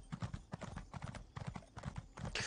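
Horse hooves clip-clop steadily while riding in a video game, a quick rhythmic run of hoofbeats at moderate loudness with no talk over it.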